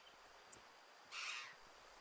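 In the hunting video game Way of the Hunter, on the Tikamoon Plains, a faint distant bird call sounds once as a short harsh burst, preceded by a tiny click against quiet ambient wilderness.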